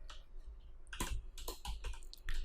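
Keys on a computer keyboard are tapped in quick irregular bursts, close and fairly quiet, with crisp clicks clustered together and short pauses between them.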